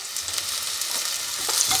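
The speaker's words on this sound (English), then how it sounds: "Listen to that sizzle." Spring onions sizzle in olive oil in a preheated pan, giving a steady, bright, close-up frying hiss with small crackles throughout.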